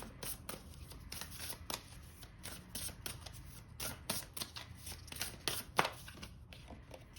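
A tarot deck is handled and shuffled to draw another card. Rapid papery riffles and flicks come in dense, irregular bursts, close and quiet, with no voices over them.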